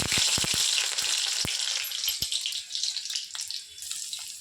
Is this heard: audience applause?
no